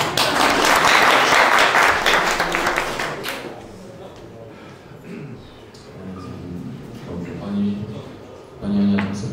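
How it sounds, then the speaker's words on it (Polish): Villagers at a rural village meeting clap together in a loud burst of applause that fades after a few seconds, followed by quiet murmuring and brief voices. "Gorące brawa."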